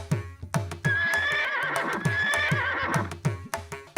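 A horse whinnies loudly in a royal court setting, a long, wavering neigh holding for about two seconds over repeated rhythmic hoof clip-clops, with a second shorter whinny near the end.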